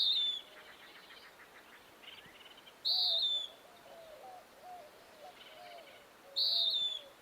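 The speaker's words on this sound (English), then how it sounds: "that Western wood peewee is pretty quiet. But they have pretty distinct calls" A Western wood pewee gives a clear, slightly burry descending call three times at spaced intervals, with softer chirps and twitters from other birds in between.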